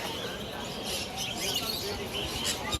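A dense, fairly faint chatter of many birds chirping and tweeting fills a busy bird market without a break, with small calls overlapping throughout.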